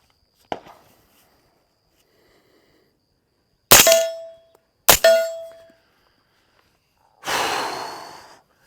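Two sharp shots from a Palmetto 300 Blackout rifle fitted with an Energetic Peak 30 suppressor, muffled cracks about a second apart with short ringing metallic tails, set between quiet outdoor stretches and a breathy rustle.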